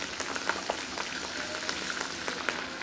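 Green chili and curry leaves sizzle in hot oil with a steady crackling fry and frequent sharp pops spread across the whole stretch, without any voices.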